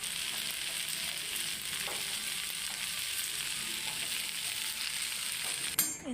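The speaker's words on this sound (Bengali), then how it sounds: "তো পেঁয়াজ লঙ্কা ফোড়ন দিয়ে সবজিটা বসিয়ে দিলাম" Vegetables fry in a pan after an onion and green chilli tempering, giving a steady, dense sizzle throughout, with a short clatter near the end.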